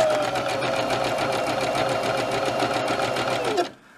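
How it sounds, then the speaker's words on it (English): A sewing machine running a zigzag stitch on faux fur, a fast, even mechanical chatter heard up close that runs steadily for several seconds and then stops abruptly. "Then I'm just going to run a zigzag stitch all the way around."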